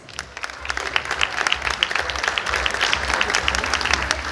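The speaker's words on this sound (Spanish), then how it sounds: "Vamos a darle un aplauso a los novios." A wedding crowd claps steadily and enthusiastically for the newlyweds, a dense continuous patter of applause with some faint voices mixed in.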